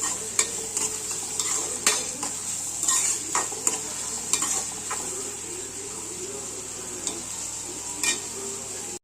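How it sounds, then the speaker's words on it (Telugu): Onions and garlic frying until golden give a steady high sizzle, with intermittent spoon scrapes and clinks against the pan as they are stirred, close up. "ఈ ఉల్లిపాయలు వెల్లుల్లిపాయలు కూడా మంచి గోల్డెన్ బ్రౌన్లోకి వచ్చేంత వరకు ఫ్రై చేసుకోవాలి"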